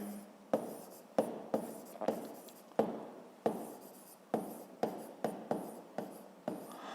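A pen writes out a 7th-grade physics problem solution on paper, with close, scratchy strokes in quick bursts, each starting with a sharp tap and trailing off, and no talking.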